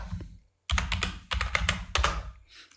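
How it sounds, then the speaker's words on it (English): Keys tapped on a computer keyboard at close range, a few short bursts of clicks with pauses between them, loud and isolated with no voices. "hit F2 on the keyboard"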